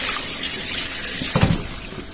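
Hot water runs steadily from a tap into a sink to soak frozen chicken breast, a continuous close splashing rush with a brief louder gush near the end.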